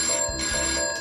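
An antique payphone rings in the video game Christmas Shopper Simulator, a loud, close electronic ringtone with steady bright tones through the whole brief moment.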